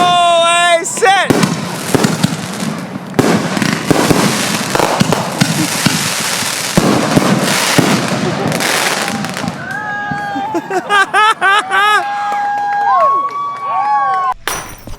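Backyard July 4th fireworks go off in a loud, crackling barrage of pops and bursts for several seconds, followed by whistling rockets, with people cheering and talking nearby.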